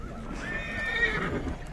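A horse at a livestock market whinnies in a short, thin neigh that rises and wavers over a murmur of background market noise.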